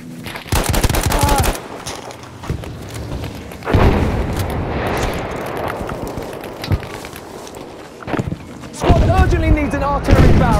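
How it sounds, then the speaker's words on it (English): Battlefield 5 Breakthrough battle on the Twisted Steel map, with loud rolling blasts of an artillery barrage mixed with bursts of machine-gun fire and footsteps, while voices speak over the combat. "An artillery barrage, this position."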